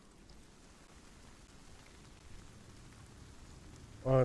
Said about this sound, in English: It's raining and fire still going?